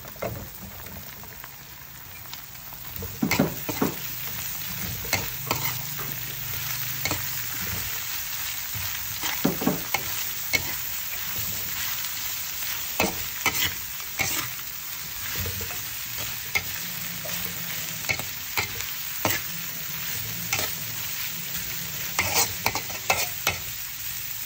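Potatoes and grated carrots sizzle in a hot pan at home, with a steady fry broken by repeated scraping and clattering strokes as a utensil stirs them, and no talk.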